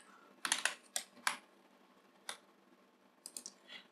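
Quick clusters of soft keystrokes on a computer keyboard, a few short taps separated by pauses, close and fairly quiet against a low hum.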